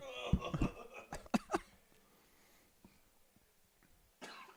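A burst of sharp coughs up close, three or four quick hacks in a row, then quiet with a faint breath at the end.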